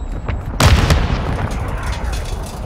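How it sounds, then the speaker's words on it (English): A sticky grenade detonates in the Modern Warfare II video game, one loud, close boom with a heavy low rumble that tails off slowly. "Tossing sticky grenade!"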